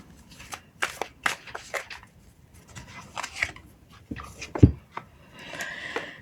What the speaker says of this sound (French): je vais tirer une troisième carte pour avoir un peu plus de précision